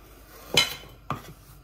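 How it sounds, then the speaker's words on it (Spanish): Two sharp knife chops land on a cutting board while chile pepper is diced for meatballs, close and distinct, about half a second apart with quiet between. "el chile ya está picado"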